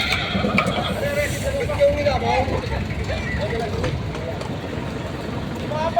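A horse whinnies amid a busy outdoor livestock auction market in Lucena, Quezon, with people talking nearby and a steady background rumble throughout.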